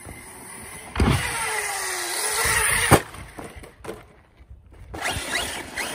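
An ARRMA Outcast 6s RC car whines its electric motor in rising and falling bursts while driving and jumping in a backyard, close by, with brief quiet gaps between runs.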